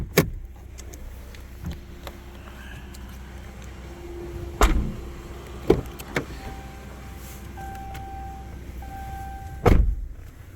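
The power rear window of a RAM 1500 Big Horn pickup truck opens with a faint motor whine, set among cabin clicks and a few sharp knocks inside the quiet truck.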